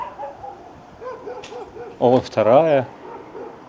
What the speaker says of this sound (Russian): Слышь, она лает, вон она.